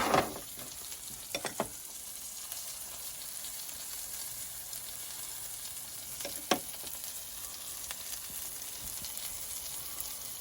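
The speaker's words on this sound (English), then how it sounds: "I'm gonna cook a little bit of this fish mousse here too." Fish mousse frying in a hot pan while sea bass is blackened, giving a continuous soft sizzle with a few sharp clinks and taps of utensils, close by and with no one talking.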